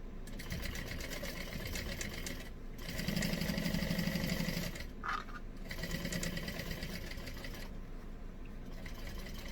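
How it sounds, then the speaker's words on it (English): A sewing machine stitches a pocket seam on a tote bag in steady, close bursts of rapid mechanical whirring with brief pauses between runs, and no voices. "I'm going to sew down here, sew to the pink line. I'm going to sew up."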